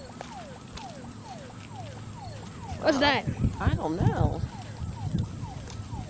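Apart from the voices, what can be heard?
ambulance siren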